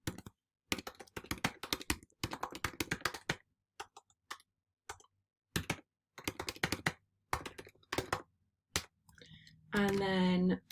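Someone types on a computer keyboard with rapid clicking keystrokes in bursts separated by short pauses. The sound is close and moderately loud, and a brief tonal sound comes near the end.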